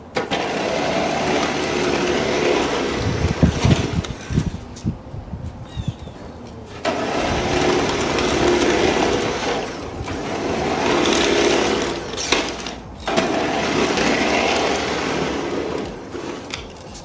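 A Toro 12-inch 60V battery-powered cordless electric snow shovel runs with a steady motor whine and scraping throughout, dipping briefly a few times, with wind noise outdoors.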